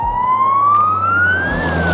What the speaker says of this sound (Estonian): Vaata nüüd, kiirabi auto.